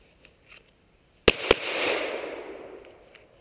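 A Glock 17 pistol fires two sharp, loud shots in quick succession, each cracking hard and trailing off into a long, rolling echo outdoors, with a couple of faint distant pops just before.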